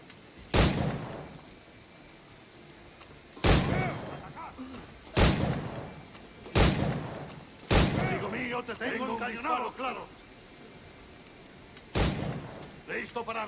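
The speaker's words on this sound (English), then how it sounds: "How about a little gunplay?" Gunfire in Assassin's Creed IV Black Flag: six heavy, booming shots spaced a couple of seconds apart, each with a long rumbling tail, and muffled shouting between them.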